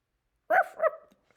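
A voice imitating a fox barking, two short sharp yelping calls in quick succession, close and fairly loud, followed by a faint tail of breath.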